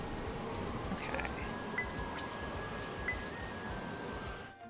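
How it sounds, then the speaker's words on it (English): Rain falls in the farming video game Story of Seasons: Pioneers of Olive Town, a soft, steady patter with faint chimes over it before it cuts off suddenly at the end. "I like how the rain and the storm just suddenly stops."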